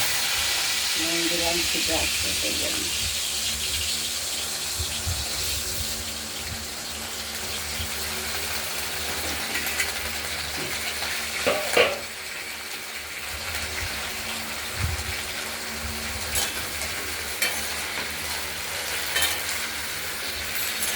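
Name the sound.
okra frying in a pan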